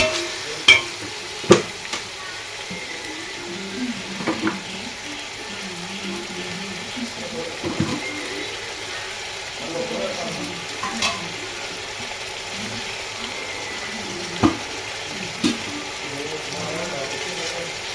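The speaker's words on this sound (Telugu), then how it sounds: "టొమాటోస్ వేసి ఇవి కూడా ఆయిల్లో ఫ్రై చేయాలి." Tomatoes frying in oil in a pan for biryani, a low steady sizzle with scattered sharp clicks and scrapes of a spoon against the pan, fairly quiet throughout.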